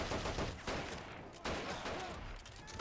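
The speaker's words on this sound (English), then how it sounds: "Machine gunner. Okay, you should be shooting a lot faster," Rapid machine gun fire in the WWII strategy game Men of War: Assault Squad 2, Pacific campaign on Borneo, dense overlapping bursts with several louder reports near 0.7 and 1.5 seconds, loud and continuous throughout.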